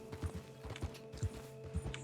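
Horse hooves clip-clopping in Red Dead Redemption 2 Online, an even walking rhythm of soft thuds about twice per second, quiet and alone with a faint steady hum underneath.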